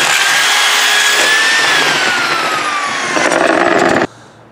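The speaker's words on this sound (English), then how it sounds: "That's hammer drill." A loud, continuous hammer-drill whine grinds steadily into brick for about four seconds, rising in pitch briefly, then cuts off abruptly.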